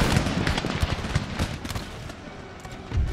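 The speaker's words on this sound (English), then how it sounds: "Giving us some very accurate sniper fire." Volleys of rifle fire from irregular riflemen with long rifles in the Empire: Total War battle game, a dense, irregular crackle of overlapping shots that goes on throughout, with a few louder reports standing out.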